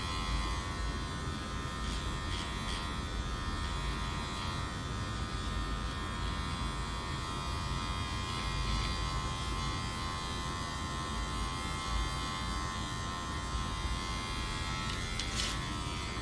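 Electric hair clippers run steadily while cutting hair, a constant close buzzing hum lasting throughout with slight changes as the blades move around the head, no voices.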